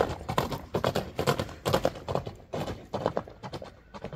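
A horse's hooves clip-clop in a steady, fairly quick rhythm of close, distinct knocks, continuing throughout without pause.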